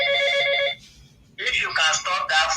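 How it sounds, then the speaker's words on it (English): A telephone rings loudly nearby with a steady electronic tone, then stops briefly before voices talk over it during an indoor conversation. "If you can stop that phone call, it's distracting the president."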